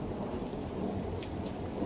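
Steady heavy rain pours down with deep rolling thunder rumbling throughout, a dense, loud storm soundscape with no voices.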